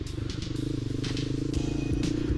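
A Vento Screamer 250 motorcycle engine runs steadily while being ridden, a continuous low harmonic drone with wind noise, close and fairly constant throughout.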